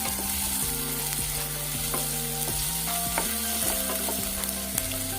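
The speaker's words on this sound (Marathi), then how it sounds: "आता कांदा छान आपल्याला अगोदर परतवून घ्यायचा" Chopped onions sautéing in a pan for a boiled egg curry, giving a steady, loud close-up sizzle and crackle with occasional stirring scrapes, running continuously with no talking.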